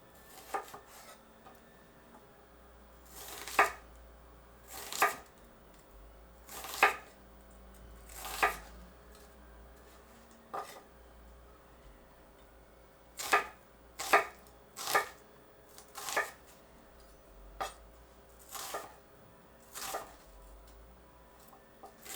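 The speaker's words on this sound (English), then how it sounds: "Thinly sliced white onion pole to pole into thin strips or wedges." A knife slices a white onion pole to pole into thin strips on a cutting board, sharp, close, isolated thunks arriving in irregular clusters with quiet gaps between, no talking.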